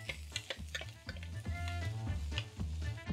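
Chopped onions sweating in a pan with olive oil, salt and pepper over low-medium heat, a soft steady sizzle with repeated stirring scrapes and light ticks against the pan, quiet and close.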